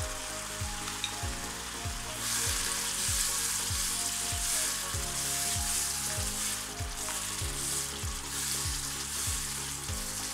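Spice powders for a traditional liver curry, turmeric, red chilli and cumin, cook in hot oil with a steady broadband sizzle, plus low rhythmic scraping as the pan is stirred, continuous and fairly close.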